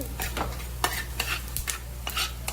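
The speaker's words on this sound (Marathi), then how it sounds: "थोडंसं तेल घालूया. थोडेसेच भाजून घ्यायचे." Ingredients dry-roasting in a pan with just a little oil give a steady sizzling hiss, broken by short scraping stirs of a spatula at irregular intervals, close by with no talking.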